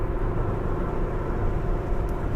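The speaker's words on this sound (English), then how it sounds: "It's got this long truck bed, and it's like banging on every single bump." A loud truck with a long bed rumbles steadily close by, a dense low roar with no clear separate bangs standing out.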